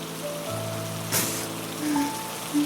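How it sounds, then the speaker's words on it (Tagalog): Heavy rain pouring down, a steady hiss of drops on surfaces throughout, with faint tonal background sounds and a brief louder splash partway through. "Bumuhos ang malakas na ulan."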